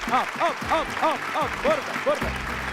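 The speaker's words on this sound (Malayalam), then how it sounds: "നന്നായിട്ട് കൈയടിച്ചേ" Studio audience applauding on a Malayalam TV game show, a steady, loud wash of clapping that runs the whole time while a voice talks and calls out over it.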